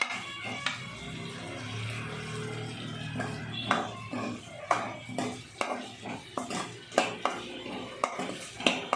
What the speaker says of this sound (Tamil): தக்காளி போட்டு நல்லா வதக்கி விட்டுக்கலாம்